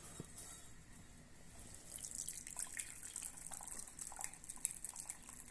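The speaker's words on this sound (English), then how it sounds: "we're going to strain it through a sieve" Dissolved gelatin liquid for a layered lime cheesecake trickles and splashes through a sieve, a steady close pour with small drips and patters that grow busier partway through, with no talking.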